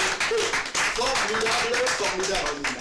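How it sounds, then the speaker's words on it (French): An audience gives a dense burst of clapping at a live band interview event, and a voice speaks over the applause throughout. "Merci de vous applaudir une fois encore vous-même."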